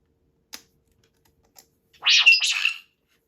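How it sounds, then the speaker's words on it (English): A couple of faint clicks, then a short rising electronic hum from a lightsaber booting up, with a bright, buzzy shimmer that swells and fades within a second. "So when you pull this, you're going to get the boot sound"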